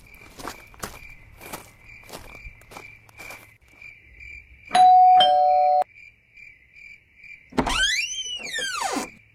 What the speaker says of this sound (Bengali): অনিরুদ্ধ এগিয়ে গিয়ে কলিং বেল বাজালো